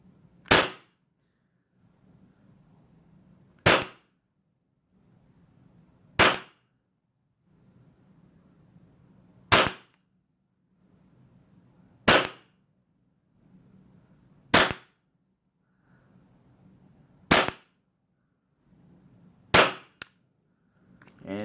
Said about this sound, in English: So only 9 shots registered out of that whole magazine.